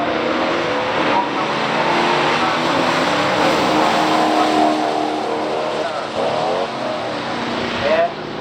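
A 1964 Studebaker Challenger R4 and a small-block 1971 Corvette race at a drag strip with a loud, sustained engine roar that rises and falls, while an announcer talks over it.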